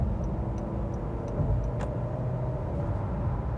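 A 2019 Honda HR-V Sport 2WD accelerating gently on the road, heard from inside the car as a steady, low engine and road hum with faint regular ticking above it.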